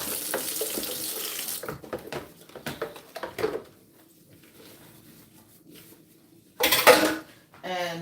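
Tap water runs over hands or produce at a kitchen sink while scrubbing with soap during juicing cleanup, with dish and utensil clatter, a quieter stretch, then a loud gush of running water near the end.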